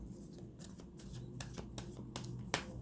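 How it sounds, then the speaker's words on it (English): Tarot cards are laid out for a reading: a series of crisp close card flicks and slaps at uneven intervals over a quiet room, with one sharper snap near the end. "So we're going to put out 9 cards."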